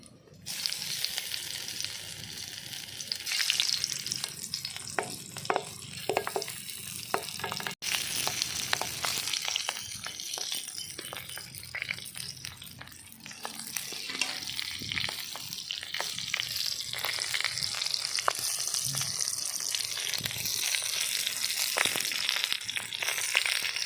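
Masala eggs wrapped in banana leaves fry in hot oil in a village kitchen, a steady close crackling sizzle with sharp pops and occasional stirring scrapes that runs unbroken throughout, with no talk.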